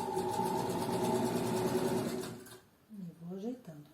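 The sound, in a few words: sewing machine stitching a dress seam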